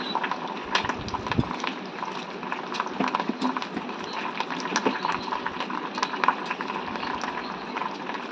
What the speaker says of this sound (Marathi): कढीपत्ता तेलामध्ये छान फ्राय होऊ द्यायचा आहे.